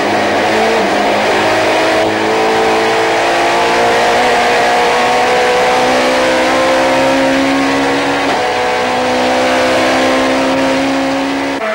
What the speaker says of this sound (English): unusual footage of a touring car at high speed around Monza